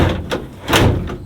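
A storage drawer on a 2025 JB Caravans Gator off-road caravan slides in and knocks shut, with two or three short clunks and a brief rolling slide close by.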